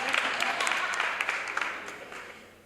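An audience at an event honouring women gives a short round of applause, a dense patter of clapping with a few sharper claps that gradually fades out over about three seconds.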